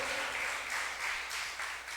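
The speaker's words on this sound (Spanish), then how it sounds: "Le damos un aplauso al Señor." Church congregation applause during a prayer service: a steady, dense wash of many hands clapping, surging slightly in waves, fairly close, with no voices on top.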